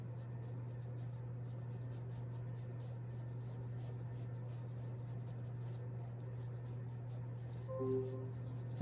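A pencil sketching an inverted egg shape for a human head on paper gives a soft, continuous scratching that rubs on in short strokes beneath a steady low electrical hum, with a brief louder bump near the end.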